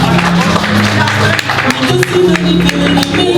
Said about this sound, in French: que je vous demande d'applaudir très fort également